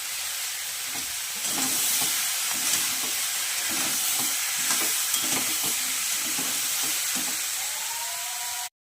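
Vegetables frying in oil with grated ginger for a vegetarian dish, a constant close hiss of sizzling with soft rhythmic stirring taps throughout, no talking, ending abruptly.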